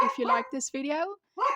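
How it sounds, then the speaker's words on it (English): A dog barks in the background while a person talks over it. The barking comes in short yips mixed under the nearer voice. "sorry for the dog barking in the background"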